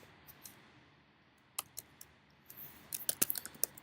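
Someone types code on a computer keyboard, giving sparse soft clicks at first that pick up into a quicker cluster of close, light keystrokes, with no talking.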